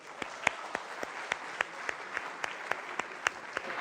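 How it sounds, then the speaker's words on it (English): Sparse audience applause greets a speaker at a tech talk, a thin and fairly distant patter of separate claps at a steady rhythm without any cheering. "round of applause"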